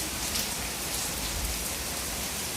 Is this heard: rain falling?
yes